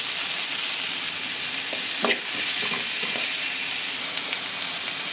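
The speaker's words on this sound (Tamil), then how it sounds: "வதக்கிறதுக்கு தேவையான கல்லுப்பும் போட்டுக்கணும். அப்போ தான் வந்து உங்களுக்கு வெங்காயம் நல்லா வதங்கும்." Sliced onions sautéing with rock salt in a hot pan, a steady close sizzle with a few stirring scrapes and clicks from a spatula, no talk.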